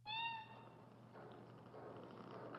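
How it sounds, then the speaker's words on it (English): A female cat purrs softly and steadily at close range, a low continuous rumble that opens with a brief higher harmonic whine and runs alone throughout. "She's purring."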